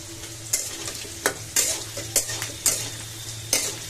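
Bay leaf and dried chili fry in hot oil in a pan, a steady close sizzle broken by regular scraping strokes of a spatula stirring, with no talking.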